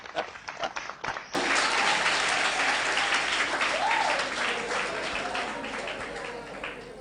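An audience at a Haitian gathering breaks into loud, sustained applause that starts abruptly after scattered sounds and slowly tapers, with a voice faintly audible under the clapping.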